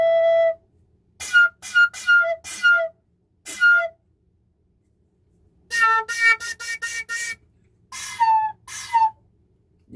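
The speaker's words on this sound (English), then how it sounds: "You can also do it blowing really hard through here. Just know that it's going to make a shriekingly loud sound." A flute blown very hard gives loud, shrieking whistle-like tones, in short bursts at first and then in a longer run of rapid notes near the end, with brief gaps between phrases.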